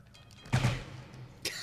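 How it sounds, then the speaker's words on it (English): Fireworks go off in a fishing video game: a sharp crackling burst, a lull, then a second burst near the end, moderately loud against quiet background. "Who is setting off fireworks at 3 in the morning?"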